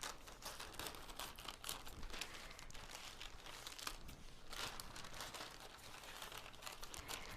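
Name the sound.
cutting up a thick plastic bag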